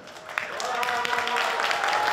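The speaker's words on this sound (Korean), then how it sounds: "정말 우레와 같은 박수를 받으면서" An audience at a Korean TV drama press event breaks into sustained applause, a dense wash of clapping that swells slightly while a presenter keeps talking over it.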